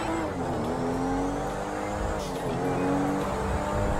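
A supercar driven in the video game GTA 5 gives a continuous engine drone that rises and falls with revving, loud and close, with brief hints of tire noise and no talking.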